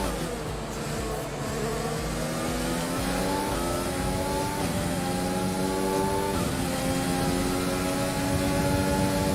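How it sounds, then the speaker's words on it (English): A steady engine drone with rising and falling harmonic pitch, like a car accelerating and shifting, loud and continuous with a faint rumble beneath. "I can hear the sound of his car."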